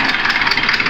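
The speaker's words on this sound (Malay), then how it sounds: "Ini enjin dia agak teruk." A Mitsubishi Pajero 4D56 diesel engine in poor condition, three months after an overhaul and blowing white smoke, idles loudly and close by with a steady rough hum.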